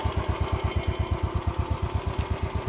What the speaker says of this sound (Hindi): क्लच प्रेस किया, फर्स्ट गियर लगा हुआ है, और थोड़ा थोड़ा एक्सीलेट करना है और आगे की तरफ मूव करवानी है बाइक